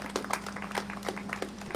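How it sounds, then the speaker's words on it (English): Audience at a solar-energy panel event giving a round of applause for the panelists, a short spell of steady clapping at moderate level with a faint hum underneath. "I'd love everyone to kind of give a round of applause for these amazing women"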